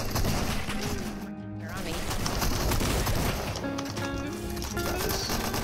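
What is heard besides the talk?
gunfire in Fortnite video game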